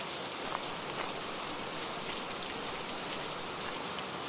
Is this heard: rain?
yes